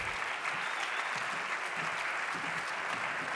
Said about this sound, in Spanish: Recibámoslo con un fuerte aplauso al señor Richard Goff.